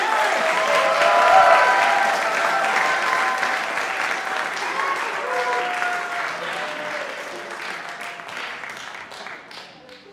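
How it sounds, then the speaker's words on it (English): An audience at a jazz summer workshop symposium claps in sustained, dense applause that stays loud and steady for about ten seconds before gradually thinning, with some faint voices mixed in. "So please give a huge, huge round of applause"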